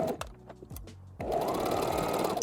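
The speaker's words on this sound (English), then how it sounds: "There's one stitched up," Sewing machine stitching a seam on a T-shirt, starting with a few short clicks and thumps, then running in a loud, steady close whir for the final second.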